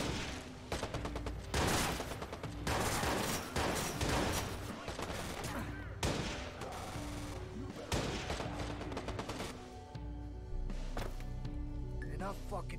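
Sniper gunfire in the video game Watch Dogs Bad Blood: loud, dense bursts of shots and cracks in a heavy exchange of fire, with someone talking throughout.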